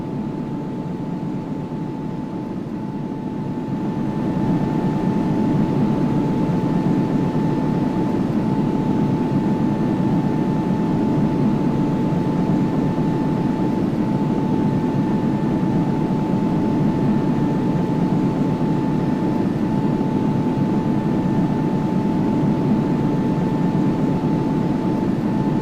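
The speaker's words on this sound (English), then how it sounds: "we'll turn the engine volume up, and you guys can actually hear what this plane sounds like on this departure" Boeing 737 engines roar on departure in the X-Plane 10 flight simulator, a loud, steady, unbroken drone with a faint whine above it, swelling after the first few seconds and then holding level alone.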